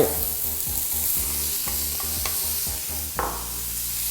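Carrot, broccoli and mushrooms are stir-fried in oil over low heat in a pan, giving a loud steady sizzle with occasional scraping strokes and clinks of the spatula.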